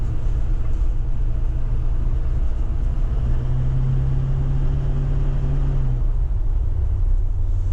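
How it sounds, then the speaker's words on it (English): A 2008 Chevy 3500HD with the 6.6 LMM diesel, full delete and straight exhaust, idles and runs with a loud, steady low rumble that deepens into a stronger drone partway through. "This truck's running really good right now though, and it's really smooth with the new shocks on it."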